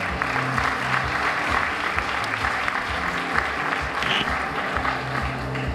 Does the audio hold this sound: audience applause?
yes